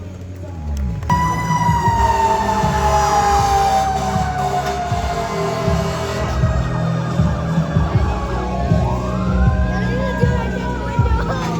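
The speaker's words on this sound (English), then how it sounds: "fire engine 91 arrives on scene to a working structure fire" A fire engine siren wails loudly and steadily, its pitch sweeping down as the truck pulls up close to a working structure fire, with engine rumble and background noise throughout.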